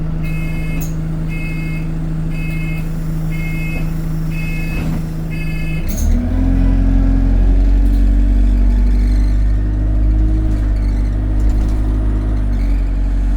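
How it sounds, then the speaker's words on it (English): Idling engine of a Metroline Alexander Dennis Enviro 200 bus running in limp mode, a loud low drone with a repeated reversing beep at first, then the engine note rising and revving heavily as the bus pulls away, close by. "I could tell it's running in Limp mode"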